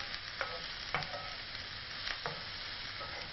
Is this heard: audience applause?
no